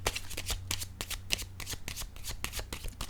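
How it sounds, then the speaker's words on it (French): A deck of tarot cards is shuffled and a card drawn, with rapid, close, crisp riffling flutters and slaps repeating throughout at a moderate volume, no speech. "Je vais piger une autre carte ici."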